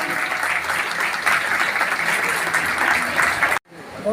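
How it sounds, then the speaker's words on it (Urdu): An audience applauds at the opening ceremony of a multi-skills hub centre in Jhelum, a dense, loud and steady clapping that cuts off abruptly near the end, with faint voices underneath. "یہ تالیاں بجائیں"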